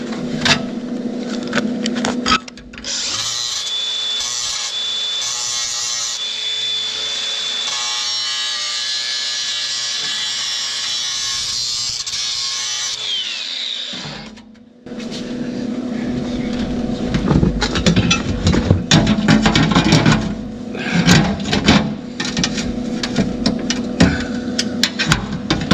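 An angle grinder grinds down a weld on a metal frame during RV generator fabrication on a 2005 American Eagle, a loud sustained whine for about twelve seconds, then scraping, knocking work noise with a voice speaking at times.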